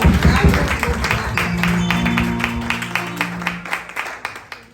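Congregation applauding during a Sunday adoration church service, scattered rhythmic claps that sharpen into distinct, fairly close hand claps toward the end, with a sustained musical tone underneath.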